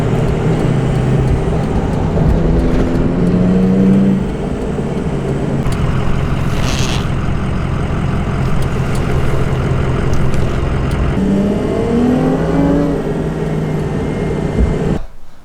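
A BMW E36 drift car idles with a new Borla straight-pipe exhaust and 4-inch exit, a loud, steady low rumble throughout with a few small revs and shifts in tone.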